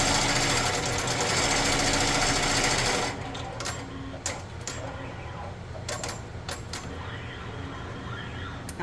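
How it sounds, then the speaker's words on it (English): An embroidery machine sews a placement stitch for an appliqué design, its fast, steady mechanical whir and needle clatter running loudly, then easing into a quieter, lighter rhythm with occasional clicks. "now it's going to do what's technically the placement stitch for the next part"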